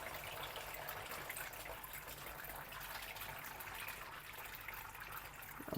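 Homemade white kvass is poured into jars and bottles, a steady soft liquid stream with gentle gurgling that runs continuously and faintly, with no talking.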